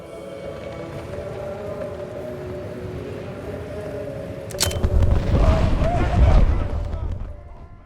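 In James Bond First Light, an explosion goes off midway with a sharp crack followed by a heavy, rolling boom that swells for a couple of seconds before dying away, after a stretch of quieter game sound with some talk.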